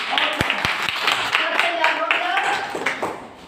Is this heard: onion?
no